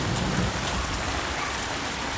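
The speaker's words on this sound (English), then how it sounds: "It has been pouring rain all day" Pouring rain falls steadily outdoors, a dense, even hiss of drops on surfaces with no breaks and no voices.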